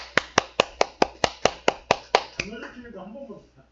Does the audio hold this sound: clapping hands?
yes